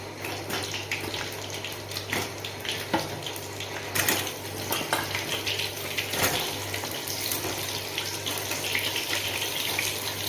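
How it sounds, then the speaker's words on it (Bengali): Pointed gourd pieces frying in hot oil with black cumin give a continuous, dense crackling sizzle, steady and close, with a few louder spits and no talking. "তেলটা ভালো করে গরম হয়ে গেলে, একটু কালো জিরেগুলো ভাজা হয়ে গেছে, এবার আমি এক এক করে এখানে পটলগুলো দিয়ে দেবো।"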